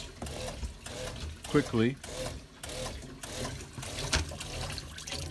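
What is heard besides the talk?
boat water pump cycling with tap running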